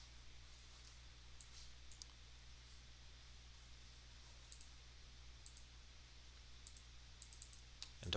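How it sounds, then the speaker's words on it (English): Sparse, faint mouse clicks sound in CATIA CAD software, single and double clicks spaced irregularly over a steady low hum. "let me double click on its part body, right click properties, and let's give it a color"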